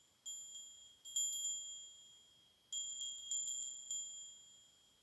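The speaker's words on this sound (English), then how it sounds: "Listen to the bell. We will open this with the bell and close it with the bell." A meditation bell rings with clear, sustained metallic tones, struck in two groups of soft chimes that ring out and slowly fade in a quiet room.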